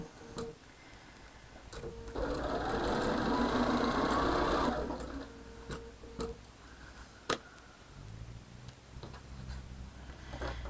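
A domestic sewing machine stitches a Double Dutch quilt block, a steady whirring run of a few seconds in the middle, framed by quiet handling clicks and taps with no talk.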